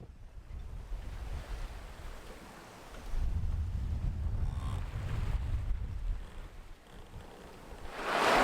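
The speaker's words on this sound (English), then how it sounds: "At last we are sailing to Bora Bora." Wind and open water around a sailboat heading toward Bora Bora in French Polynesia, a steady rushing wash with gusty surges that swell louder midway and near the end, no talking.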